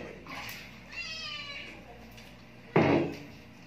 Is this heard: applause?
no